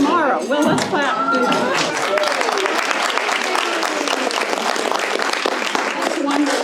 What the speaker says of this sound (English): Well, let's clap.